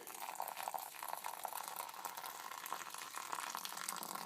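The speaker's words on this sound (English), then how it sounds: "we're actually going to fill it up with some hot water." Quiet, steady trickle of hot water pouring into a coffee brewer, a soft continuous splashing with faint bubbling, no voices.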